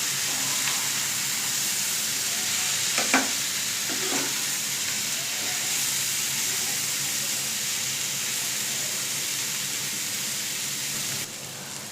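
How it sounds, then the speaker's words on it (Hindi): Pointed gourd (parwal) frying over a medium flame, a steady, even hiss of cooking throughout, with a couple of brief spatula stirs early on, moderately quiet and close. "मीडियम फ्लेम पर सब्जी पकेगी। बीच में खोल करके सब्जी को चला ले"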